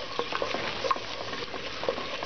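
Garlic frying in oil while a long wooden ladle stirs it, giving a steady sizzle broken by repeated scraping and knocking strokes, close and alone.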